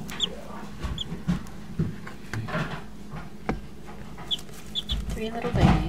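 Baby chicks kept in a box give a few short, high chirps scattered here and there, fairly faint, amid thumps and rustling as they are handled.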